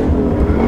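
A 2016 Ford Mustang GT V8 pulls hard through the gears, its engine a loud, close, steady drone under acceleration.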